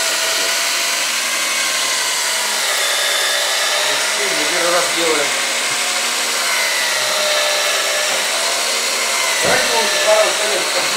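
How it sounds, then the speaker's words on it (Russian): A power drill whines steadily and loudly while boring holes into dishware handles, a continuous high-pitched buzz with faint voices underneath. "Ручки ему посверлили."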